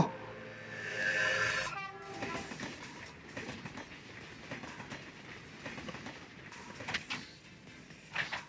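A train in the video game Dragon Raja ReRise rolls along with a steady rumble and rhythmic clatter, a loud tonal horn-like blast near the start and sharp clanks near the end, with no talking.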